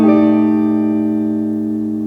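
A single sustained minor seventh flat five chord with an added eleventh rings out and slowly decays over about two seconds, with no other sounds.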